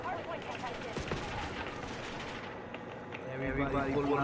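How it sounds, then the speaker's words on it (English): Gunfire in the video game Black Ops 2, with players pulling out shotguns: sharp shots crack at the start, then dense game noise and rumbling action continue through the clip, sounding mid-distance and fairly loud. "Everybody pulling out these shotguns again."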